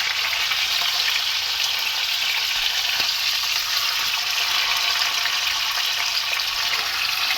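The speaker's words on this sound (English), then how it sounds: "I'm gonna flip this pork to the next side" Pork sizzling loudly in a hot pan as it is flipped, a dense, continuous hiss and crackle that holds steady throughout with one faint knock near the middle, and no voices.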